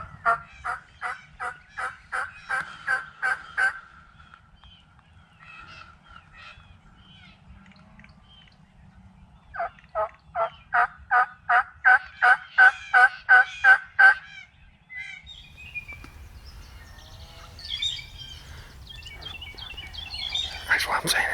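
Rio Grande wild turkeys gobble in the Oklahoma woods, two long runs of rapid rattling gobbles a few seconds apart at moderate distance, followed by soft low voices and rustling.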